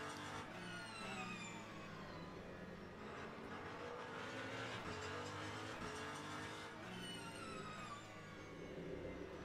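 A race car in the Le Mans Ultimate racing game runs under hybrid electric power with a loud, steady engine drone and a rising, shifting whine throughout, and no one talks.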